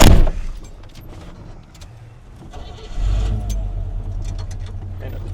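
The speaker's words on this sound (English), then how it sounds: "It starts up decent. Yeah, it starts right up." An old car whose carburetor was recently rebuilt is started up, cranking and then catching into a steady low idle. People talk over the running engine.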